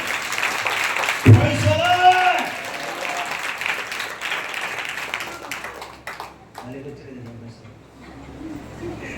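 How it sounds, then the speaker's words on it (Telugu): A church congregation bursts into loud applause that rolls on for a couple of seconds and then fades. A preacher's voice carries over it, and soft chatter and background noise follow. "గట్టిగా చప్పట్లు కొట్టి ప్రభుని కనపరచండి."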